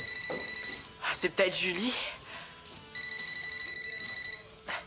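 A telephone rings in a French-language TV episode, its repeated electronic trill pulsing at the start and again at the end, with someone speaking in between.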